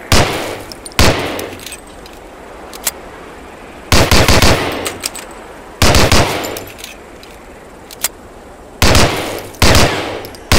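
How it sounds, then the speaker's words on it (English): Gunfire from a .45 pistol at a target in the Medal of Honor: Allied Assault video game, loud sharp shot bursts repeating at irregular intervals, some in quick doubles, with ringing tails between. "Try a couple of shots on that target with the 45."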